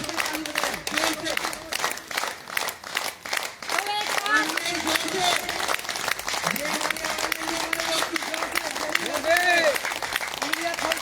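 A morning yoga class clapping hands loudly together with open palms and fingers meeting, a dense, steady barrage of claps from many people, while an instructor talks over it.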